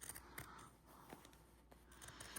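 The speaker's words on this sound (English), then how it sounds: "we're just going to go around here with the pinking shears, making sure we do not go through any of our threads" Pinking shears snip around sewn fabric, giving quiet, crisp cutting crunches in a loose rhythm, close by and faint, with no talk.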